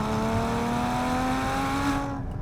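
A Sharkwerks-modified Porsche Cayman GT4 engine pulls hard in third gear near 6,000 rpm, a loud, steady rising howl heard from inside the car that eases off at the end.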